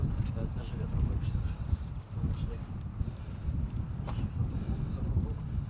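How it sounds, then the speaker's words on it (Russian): Steady wind buffeting an outdoor microphone in Alexandrovka, Donetsk, during wartime shelling, a continuous low rumble with gusty swells throughout, with voices faintly underneath. "Даже ветра больше."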